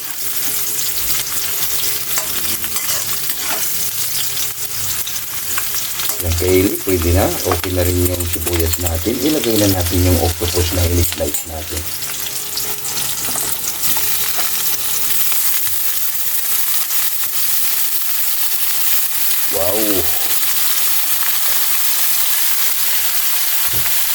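Octopus adobo in coconut milk cooks in a pan with a steady, close sizzle and bubbling, with intermittent stirring and scraping in the middle and a brief voice near the end.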